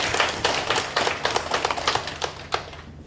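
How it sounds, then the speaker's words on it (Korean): A church congregation claps together, a dense patter of applause that continues for a few seconds before fading out. "다시 한번 하나님께 영광의 박수 올려드립니다."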